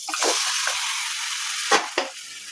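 Chicken pieces dropped into hot oil for a curry, a loud bright sizzle with a few sharper spitting bursts as the meat hits the pan, close and continuous with no talking.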